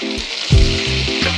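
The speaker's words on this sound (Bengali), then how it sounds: "এখন আমি বৈরাগী মাছটা ভেজে নিচ্ছি" Bairagi fish frying loudly in a pan, a dense close sizzle lasting the brief moment, with tonal music-like sounds layered over it.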